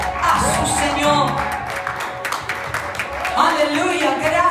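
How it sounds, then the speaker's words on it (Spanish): A church congregation claps and cheers in a loud, steady wave of applause with scattered shouts and whoops, while a voice speaks over the crowd. "Denle un aplauso fuerte a su Señor"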